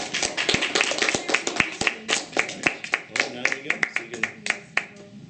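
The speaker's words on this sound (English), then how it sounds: "I'm going to give a round of applause." Applause from a small group at an art workshop: sparse, uneven claps from a few people, close and distinct, with some talking mixed in.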